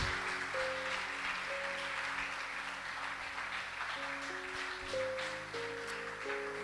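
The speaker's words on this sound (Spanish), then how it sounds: "Dale un aplauso al Señor" A church congregation claps steadily through a Spanish-language worship service, a dense, even wash of hands filling the room while sustained keyboard or organ chords sound underneath.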